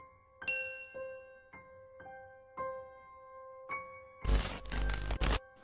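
A notification bell effect rings out as a sequence of clear chime tones, several bright dings spaced about half a second apart, followed by a short burst of dense noisy rattle near the end, with no talk.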